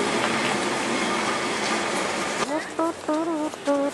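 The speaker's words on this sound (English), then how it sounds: "And there's a tram coming down it now." A Lisbon tram descends the steep Bica street with a continuous rumbling, clattering roll, giving way to tonal squeals and voices near the end.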